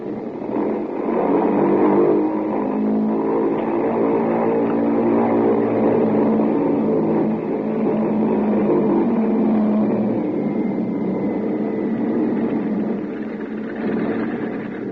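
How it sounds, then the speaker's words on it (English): Piston engines of a bomber roar steadily through a pre-takeoff run-up at the head of a runway, a loud sustained drone with layered harmonics that swells slightly and holds for the full stretch, staged as a 1951 radio drama effect with no voices. "while we were completing our engine run up at the head of the runway"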